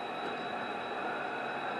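Model train running continuously on a layout track, a steady close whirring and rolling hum with a thin high whine, even and unbroken throughout.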